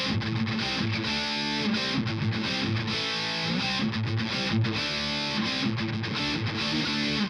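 Heavily distorted electric guitar played through an Orange Micro Dark amp alone, chugging metal riffs with palm-muted stops and sustained chords, loud and continuous with no talking.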